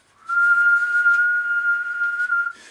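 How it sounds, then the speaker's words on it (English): A huge steam whistle sounds in one long, steady, piercing note of about two seconds, loud and clear against silence before it cuts off. "A huge steam whistle sounded,"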